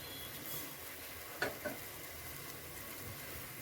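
Carrot curry with coriander being stirred in a pan, with soft scraping and a faint sizzle, a couple of light clicks of the utensil, quiet and close.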